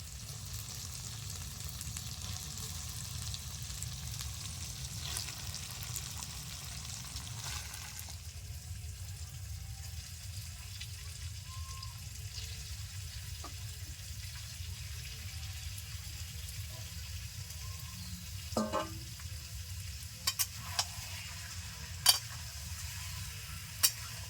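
Marinated chicken frying in a pan for a capsicum and chui jhal curry, giving a steady, moderately loud sizzle throughout with a few brief clinks near the end.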